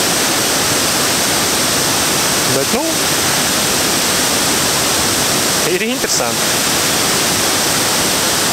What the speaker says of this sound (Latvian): Tiltiņš un apakšā bedre, kurā iekrīt ūdens